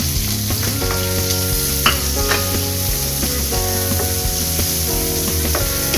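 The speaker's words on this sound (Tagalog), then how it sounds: "isolder natin ang sibuyas" Onions sautéing in a pan give a constant, close sizzle with repeated scraping and clinking of a spatula against the metal, loud and steady, with no talking.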